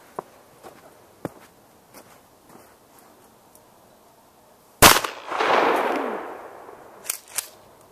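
A single loud, close 12 gauge shotgun blast firing a one-ounce Remington rifled slug into a 2-liter soda bottle, followed by a spraying, fizzing burst lasting a couple of seconds, with scattered footsteps and small clicks before and after.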